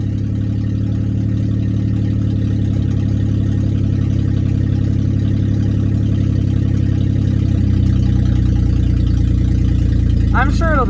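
A flex fuel 3.0 truck engine runs with a steady low rumble as the truck drives down the road, loud and close, with a brief chirp near the end.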